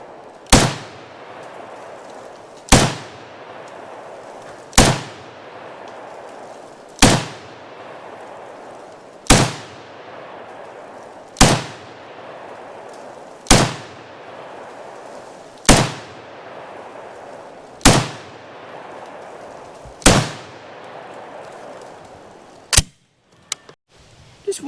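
A SIG STGW90/PE90 rifle fires Phoenix ammunition in about ten loud, sharp shots, evenly spaced roughly two seconds apart, each with a short echoing tail outdoors, then a few quieter clicks.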